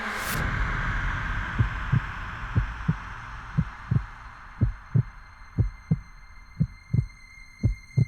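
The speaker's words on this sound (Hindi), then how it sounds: "आपकी दिल की धड़कन हम सिर्फ महसूस ही नहीं बल्कि सुन भी सकते हैं" Steady heartbeat thumps, about a dozen soft low beats in a regular rhythm over a faint background hum, used as a dramatic sound effect in a Hindi TV serial; no one speaks.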